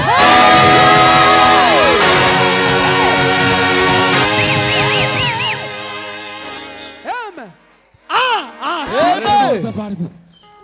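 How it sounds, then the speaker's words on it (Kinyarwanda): A church congregation in Nairobi ululates in praise of God: loud, sustained high warbling trills from many voices, fading and then breaking into scattered, wavering bursts. "tuvugirize Imana impundu"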